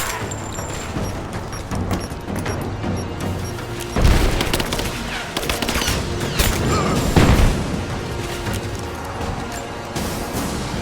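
Grenade blast and sustained gunfire in the Rise of the Tomb Raider video game: a dense, continuous fusillade with a heavy boom near the four-second mark and another burst later, all loud and close.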